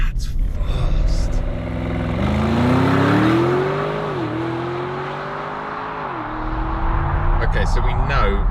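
Audi SQ7 with a V8 petrol engine accelerates hard, its revs climbing loud and close through rising pitch before easing back, with brief sharp clicks at the start and end.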